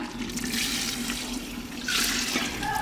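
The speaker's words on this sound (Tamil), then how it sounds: "இப்போ தண்ணி ஊற்றுறது பாரு" Water pours steadily into a pot of village-style country chicken curry masala, a continuous splashing rush that grows louder near the end, with no talking.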